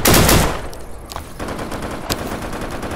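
Gunfire in the Deadside survival shooter: a loud burst of rapid shots opens the clip, followed by a few scattered distant single cracks over a steady background of game ambience.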